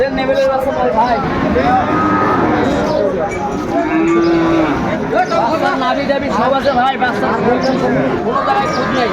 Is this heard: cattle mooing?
yes